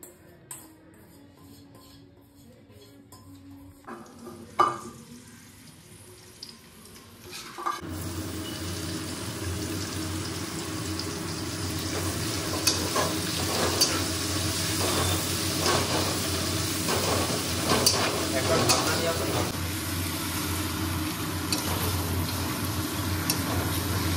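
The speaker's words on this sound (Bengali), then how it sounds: "আলুটা ফ্রাই করবো।" Potatoes rubbed with salt and turmeric fry in hot oil in a wok, a steady loud sizzle rising after a quiet start and holding continuously with faint clatter of stirring.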